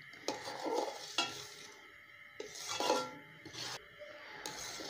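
Semolina roasts in a pan for suji halwa, stirred with repeated scraping strokes over a quiet sizzle, several distinct sweeps spaced about a second apart.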